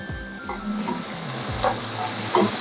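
Prawns fry in a hot pan for a Bengali pointed gourd and prawn dish, a steady, close sizzle with soft stirring scrapes and small pops breaking through.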